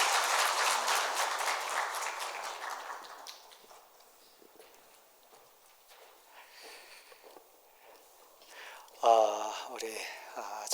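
A church congregation at a worship service applauds: dense clapping for about three seconds, fading into scattered claps and murmuring, with a voice speaking briefly near the end.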